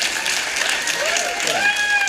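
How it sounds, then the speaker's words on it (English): Audience at a comedy stand-up show claps in scattered, moderate applause with some crowd noise and a few voices mixed in, lasting about two seconds at steady loudness. "Clap if you're from a divorced family."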